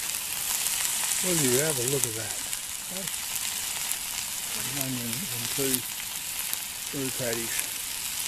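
Onion and two patties sizzle steadily in a pan over a camp burner in rough bush country, a constant close frying hiss beneath a man's occasional speech.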